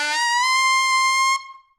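A saxophone squeezes out a bright, sustained altissimo note with the mouthpiece angle shifted in and up, held steadily alone before tailing off.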